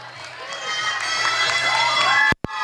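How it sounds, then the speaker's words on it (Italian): An audience at a volleyball awards ceremony claps and cheers in a steady, moderately loud wash, ending with a sharp thump and brief gap. "un applauso dal pubblico."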